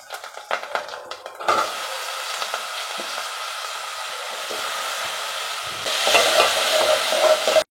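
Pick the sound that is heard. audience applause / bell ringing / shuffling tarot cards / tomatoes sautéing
tomatoes sautéing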